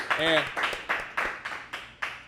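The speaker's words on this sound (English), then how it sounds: "come on, man, clap it up" Steady hand clapping in a casual music-industry interview, roughly seven firm claps in an even rhythm, each ringing briefly, close by and loud, starting just after a short spoken voice.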